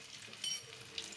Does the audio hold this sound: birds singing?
no